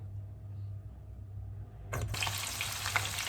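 Skewers dropped into plenty of hot vegetable oil, a sudden loud burst of frying that flares up and keeps bubbling and crackling steadily, after a quiet stretch with a low background hum.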